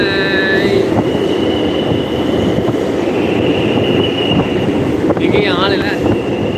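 Metro train at Puzhuthivakkam station on the St Thomas Mount–Velachery line, a steady rumbling drone with high whining tones and a squealing sweep near the end, close and loud throughout.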